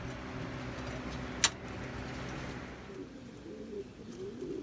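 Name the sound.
pouter pigeons cooing at the coop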